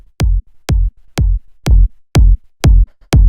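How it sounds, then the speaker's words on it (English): Techno kick drums without saturation thump alone at a steady pulse, seven deep punchy hits with clicky attacks and quick decays, dry and loud in a progressive melodic techno style. "Here's without the saturator."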